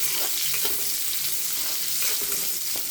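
Onions and curry leaves sautéing in hot oil in a pan for egg thokku, a steady close sizzle with occasional stirring scrapes.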